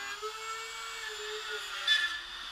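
Wood router with a quarter-inch pattern bit and bearing cleaning up the letter edges of a double-sided wooden hospital sign, a steady high-pitched whine that holds evenly throughout, fairly faint, with no talk.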